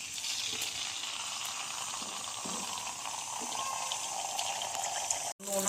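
Cauliflower 65 pieces frying in hot oil in a kadai give a continuous bubbling sizzle with small pops, close and steady, ending in a brief clunk.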